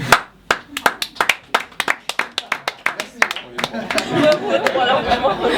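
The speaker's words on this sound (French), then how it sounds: "Vous pouvez m'applaudir pendant ce temps-là" Comedy show audience clapping, starting as a run of distinct sharp claps in an uneven rhythm that builds into denser, fuller applause with crowd chatter and some talk mixed in.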